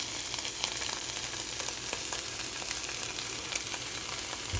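Onions sautéing in tangy barbecue sauce give a steady close sizzle, broadband crackle with small pops throughout, continuous and alone.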